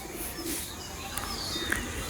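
Pakistani teddy pigeons coo softly in a loft, low murmuring calls with a few thin chirps over a steady background hiss, fairly faint and without talk.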